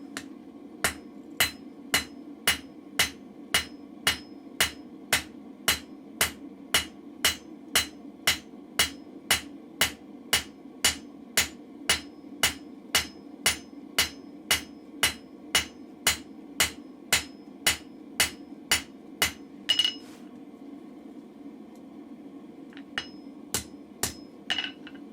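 Hammer forging the back of a chisel's taper on an anvil, a long run of evenly spaced, sharp ringing blows about twice a second, then a pause and a few lighter taps.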